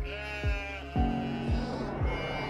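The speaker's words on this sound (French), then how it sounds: "il aperçoit sa brebis tombée dans un ravin" A sheep bleats in a sustained, wavering cry that repeats and rises in loudness, close and alone in the clip.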